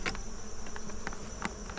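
Honey bees hum and buzz steadily at close range around an open hive box during fall feeding, with a few louder passes of individual bees flying near.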